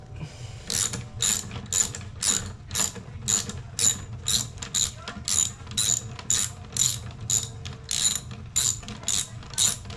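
A ratchet wrench clicks steadily while backing a 3/8 bolt off a Briggs and Stratton carburetor, about eighteen sharp, close strokes in an even rhythm with no talk.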